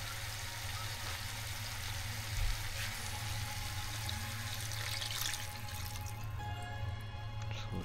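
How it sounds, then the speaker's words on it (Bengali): Goat meat frying in separated oil gets yogurt-and-spice water poured in, bringing a steady watery sizzle with bubbling and low hum, then pouring and dripping near the end. "তো সেই ইয়োগার্ট মাখানো পানিটা দিয়ে দিলাম"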